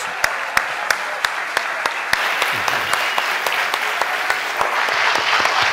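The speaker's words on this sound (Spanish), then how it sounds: "Fuerte el aplauso para ellos." An audience at a talk breaks into sustained applause, dense clapping with a few louder individual claps standing out, steady throughout.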